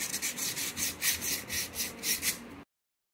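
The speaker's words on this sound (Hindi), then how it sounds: "तो अब हमें इसे सैंड पेपर की मदद से घिस लेना है, ताकि हमारा जो एल्बो है वो इजीली इसके अंदर जा सके" A pipe elbow fitting is rubbed with sandpaper in rhythmic back-and-forth strokes, about eight of them, close and raspy, before the sound cuts off abruptly.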